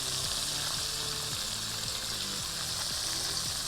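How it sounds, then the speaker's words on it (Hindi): Spices with salt, coriander powder and garam masala frying in a pan, a steady hissing sizzle throughout with faint stirring, close and even in level. "इस मसाले को आपने ज़रा अच्छे से भूनना है"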